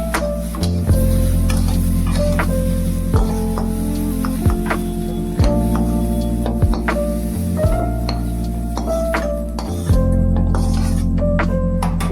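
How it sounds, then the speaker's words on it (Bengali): Cauliflower pieces frying in oil with salt and turmeric in a kadai, a loud sizzle with repeated scraping and knocking of a spatula against the pan over a low rumbling background. "লবণ হলুদ দিয়ে ভেজে নেব।"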